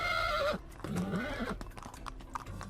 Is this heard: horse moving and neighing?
yes